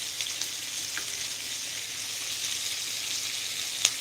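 Ginger garlic paste fries in a pan for chilli chicken, giving a steady, close sizzle that holds even throughout, with a faint clink near the end.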